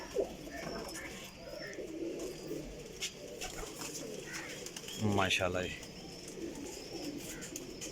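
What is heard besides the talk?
pigeons cooing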